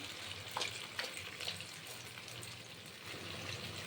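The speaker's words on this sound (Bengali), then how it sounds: "এই নারকেলের দুধটা দেখছেন এটা পুরোটা ঢেলে দিলাম" Coconut milk is poured into a dish for a fish paturi, making a soft, steady liquid splashing and trickling close by with a few brighter splashes early on.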